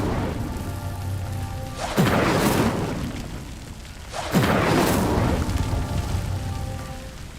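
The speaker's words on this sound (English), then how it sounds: "Incendio!" Two Incendio fire spells cast at pyres in Hogwarts Legacy, each a sudden whooshing burst of flame that swells and fades, about two seconds apart, over a low steady ambient bed.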